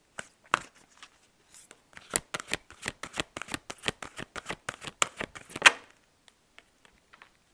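Tarot cards being shuffled by hand, a rapid run of crisp riffling flicks building in rhythm, then a final sharper snap as a card is drawn, close and clear with a quiet tail.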